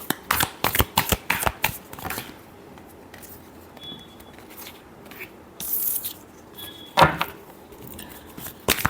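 Tarot cards shuffled by hand in a run of quick riffling bursts, then a few softer, scattered rubs and flicks of the deck, close and alone with no talk.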